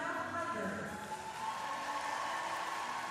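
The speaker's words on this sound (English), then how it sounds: "Big cheer for her." Arena crowd at the Skate Canada International 2024 women's short program cheering for a figure skater, a broad, steady roar of applause and shouts that holds evenly throughout.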